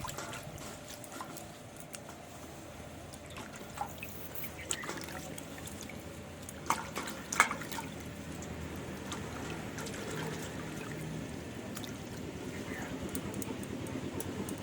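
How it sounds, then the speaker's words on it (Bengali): Roasted mankochu, giant taro, rinsed in water, with soft trickling and splashing and a few sharp knocks against a vessel, mostly faint and close, at a fairly steady level. "কচুটাকে ধুয়ে ছাড়িয়ে নেব"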